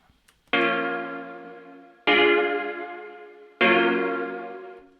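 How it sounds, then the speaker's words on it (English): Three sustained, bell-like chords in Logic Pro X, each with a sharp attack and a short reverb tail, spaced evenly about a second and a half apart and heard alone without talk. "I'll turn this off and like let you hear just the reverb by itself"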